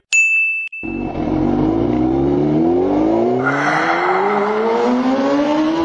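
A Honda motorbike engine starts after a short ring and then revs loudly and steadily, its pitch climbing in rising sweeps, close by and alone.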